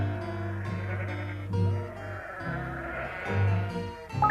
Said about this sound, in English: 3 of Alf's sheep climbing over the wall.